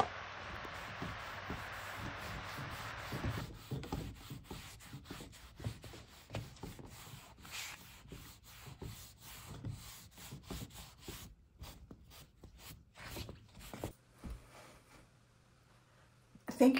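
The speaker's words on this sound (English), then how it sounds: "I just love putting wax over my finishes, especially on the top." Paste wax is rubbed onto the top of a wooden sideboard, making a close, soft, continuous scrubbing. Many short rhythmic strokes run through it, and the rubbing eases off near the end.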